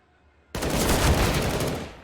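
A dense burst of gunfire from a Counter-Strike match on the Train map erupts abruptly after a half-second of near silence, rapid overlapping shots continuing loudly before tapering slightly at the end.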